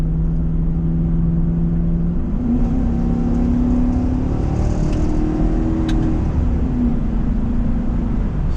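An old truck engine fitted with a Bully Dog GT tuner, running 87 fuel, revs up at three-quarter throttle. A loud, steady drone climbs in pitch, holds, then eases back.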